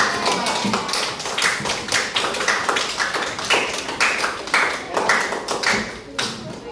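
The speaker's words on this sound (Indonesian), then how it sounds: "Kita beri aplaus kepada kelompok" A classroom group applauding a student group, brisk irregular claps from several people, close and fairly loud, continuing steadily with a voice briefly heard under them.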